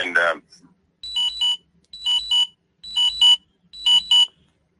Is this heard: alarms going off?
yes